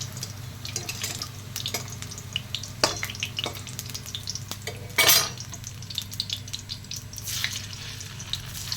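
Jackfruit seeds fry in hot oil, giving a continuous low sizzle broken by frequent small pops and crackles and one brief louder burst of spattering, heard up close with no talking.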